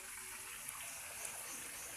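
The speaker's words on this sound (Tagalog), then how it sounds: "Dito po ako naliligo sa mini falls sa panan ng bundok." Steady broadband rush of water pouring at a small mountain waterfall, a constant close wash with no talking.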